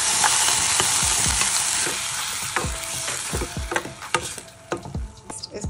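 Chopped capsicum and ground tomatoes fry in a pan, a loud steady sizzle broken by repeated sharp scrapes and knocks of a spoon stirring against the pan.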